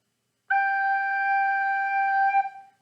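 A single low G on an alto recorder, steady, breathy and pure, held for about two seconds before trailing off, played alone with no talking.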